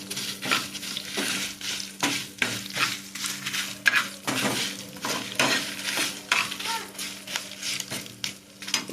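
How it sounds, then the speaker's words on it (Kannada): Sliced potatoes frying in a pan, with a steady sizzle broken by repeated scraping strokes of a spatula, close and moderately loud, with a faint steady hum underneath and no speech. "ಫ್ರೈ ಆಗಲಿ, ಚೆನ್ನಾಗಿ ಫ್ರೈ ಆಗಬೇಕು."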